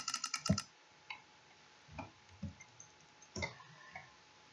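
Rapid mouse clicking during a game, a quick burst of sharp clicks up front followed by scattered single clicks, close and fairly quiet.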